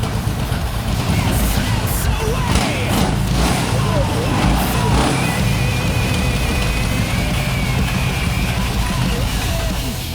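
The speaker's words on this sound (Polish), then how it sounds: "Już jest zamontowana i motor chodzi jak złoto" A Harley-Davidson Sportster motorcycle engine runs steadily after an ignition coil repair, a loud continuous low rumble with no misfires, heard close with people talking over it.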